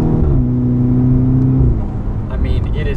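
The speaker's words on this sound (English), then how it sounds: "sticking it in manual and dropping gears and" A 2012 Volkswagen GTI in manual mode dropping gears and accelerating on turbo boost, the engine note loud and close, its pitch dipping at a downshift and then climbing again under hard throttle.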